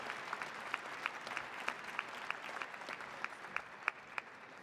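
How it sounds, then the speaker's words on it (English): An audience at a graduation ceremony applauds, with steady clapping and a few louder individual claps, heard at a moderate distance. "Please join me in a round of applause"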